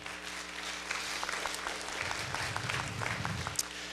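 Scattered applause from a modest audience at a school board meeting, a steady patter of clapping with a low hum underneath.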